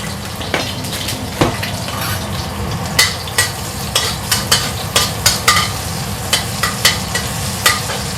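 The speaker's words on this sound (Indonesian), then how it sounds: "Mau numis kangkung ya, bumbunya bawang putih sama cabai." Garlic and chilli sauté in hot oil for stir-fried water spinach, a continuous close sizzle with frequent loud spitting pops and crackles, and no one talking.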